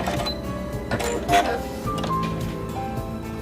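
A Singer Quantum Stylist 9960 sewing machine stitching out a pattern on fabric, a steady mechanical whirring and tapping that runs the whole time, with a brief louder burst partway through.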